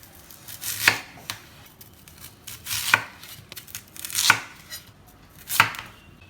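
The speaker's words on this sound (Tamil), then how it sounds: "வாழைத்தண்டு கட் பண்ணுறதுக்கு இந்த மாதிரி அவுட்டர் ஷெல்ல முதல்ல எடுத்துருங்க" Plantain (banana) stem is cut and its outer layer taken off, giving four sharp, crisp chopping strikes spaced about a second apart, each with a brief fibrous crunch, close up with only faint handling noise between them.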